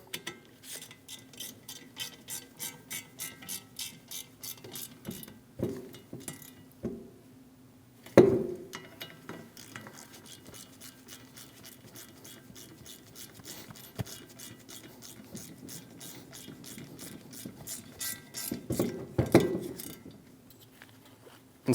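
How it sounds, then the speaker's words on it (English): A ratchet snugs the starter bolts on a 2001-2006 Chevrolet Silverado 2500 HD 8.1L V8, clicking rapidly and evenly in close runs, with a few louder knocks partway through. "Snug the bolts down."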